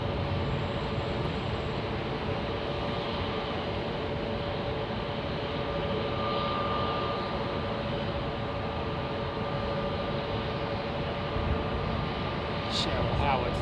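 An Emirates Airbus A380 departing London Heathrow at night with wing lights on, a steady loud broadband jet roar sustained throughout.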